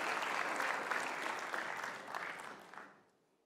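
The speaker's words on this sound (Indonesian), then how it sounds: "Kita kasih tepuk tangan." Studio audience applauding Jose Rizal Manua after his monologue on an Indonesian talk show, a dense steady wash of clapping that holds for about three seconds and then fades quickly to silence.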